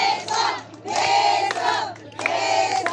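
A crowd at a dance event in San Antonio de Aguirre, Pénjamo, Guanajuato shouts and cheers in three loud, rhythmic bursts separated by short breaks, voices massed together near and energetic.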